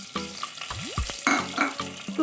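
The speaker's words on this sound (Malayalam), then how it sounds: "നന്നായിട്ട് കടുക് പൊട്ടിയിട്ടുണ്ട്" Mustard seeds splutter in hot oil in a pan on the stove, sharp irregular pops and crackles over a light sizzle, close and fairly loud.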